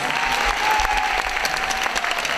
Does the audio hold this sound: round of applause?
yes